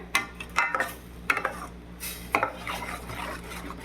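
A spoon scrapes and clinks against a metal pan in irregular strokes, stirring a thick coconut, sugar syrup and ground lentil filling for bobbatlu up close.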